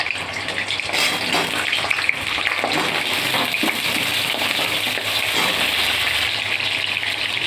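Pointed gourd (potol) pieces go into hot ghee for a potol pulao and fry with a steady, dense hiss and crackle. The sizzle holds close and even throughout, with no talk.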